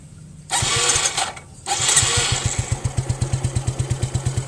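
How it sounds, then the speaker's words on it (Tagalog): A 13-year-old motorcycle's engine, heard at the muffler, catches after a couple of start attempts, then settles into a loud, close, evenly pulsing exhaust thump at idle. "balik dito tayo sa muffler para marinig niyo yung andar niya ha"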